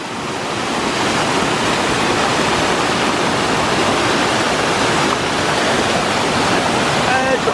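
Cascade at Lac de Guéry near Mont-Dore, full of water, a steady loud roar of falling water that swells in and holds continuously, with no voices.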